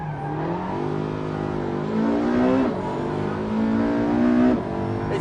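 A race hybrid car's engine revs and climbs through rising tones, pulling hard and easing off twice, loud and close from inside the car, with no talking.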